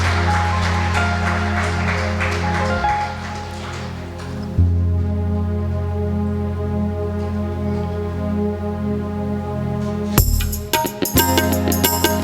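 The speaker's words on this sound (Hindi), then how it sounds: "जोरदार ताली बजाते हुए प्रभु का धन्यवाद करें।" A worship congregation at a prayer and healing service claps to thank the Lord, dense applause at first that thins out, then a steady low drone of music carries on, with a few sharp bursts of clapping near the end.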